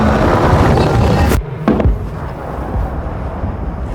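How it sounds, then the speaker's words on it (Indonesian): A loud sustained roar of blasts from a gas balloon exploding in the air cuts off abruptly, followed by a couple of sharp bursts and a quieter crackling rumble. "balon itu meledak di udara"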